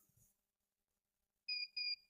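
A digital alarm clock built from a kit gives two short, clear electronic beeps in quick succession after a near-silent stretch.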